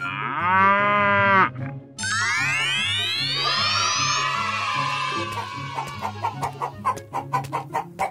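A cow moos in long, loud, drawn-out calls, first one and then a rising second, with a chicken clucking in quick bursts toward the end.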